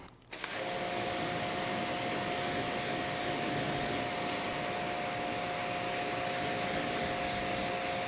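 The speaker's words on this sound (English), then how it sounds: "Now after the wash, we do a rinse." A pressure washer's spray of water rinses a car after washing, a loud steady hiss with a constant pump whine that starts abruptly and continues unbroken.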